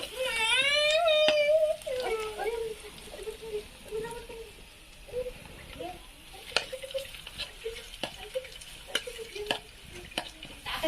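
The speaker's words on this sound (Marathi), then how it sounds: "तेल तापलेलं आहे हे याच्यात टाकलाय लसूण" Crushed garlic hits hot oil in a home kitchen pan, giving a steady sizzle broken by stirring clinks, while a voice talks over the start.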